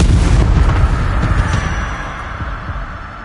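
Confringo blasting spell explosion in the video game Hogwarts Legacy, a loud, deep booming blast with rumbling low-end that slowly decays over a few seconds.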